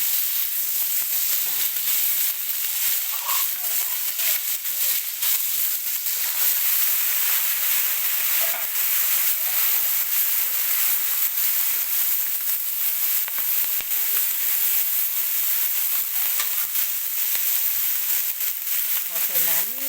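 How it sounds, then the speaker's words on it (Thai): Pork fat frying in a pan for a Thai stir-fry of pork with garlic, a steady dense sizzle throughout, close and continuous, with a voice talking over it. "เป็นหมูติดมันค่ะ แล้วก็เอามันมาเจียวก่อน"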